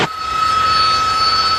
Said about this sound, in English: The reason that the Harrier can perform these incredible manoeuvres is its extraordinary engine system.